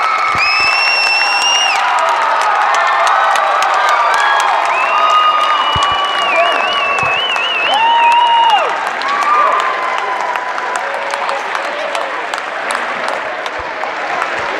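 Sioux fans in a high school gym cheer and applaud after a basketball win, a loud sustained wash of clapping and shouts with whistles and whoops, and a nearby voice talking at times.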